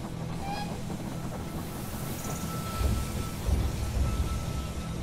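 Rumbling train arrival in the zombie strategy game They Are Billions, a steady low mechanical rumble with swelling surges near the end and a few faint higher tones, moderately loud and alone.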